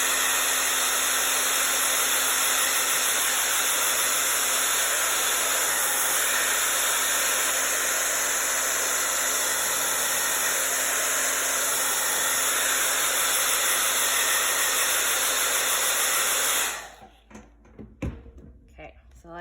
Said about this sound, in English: I'm gonna blast it with my blow dryer just to make sure it's dry.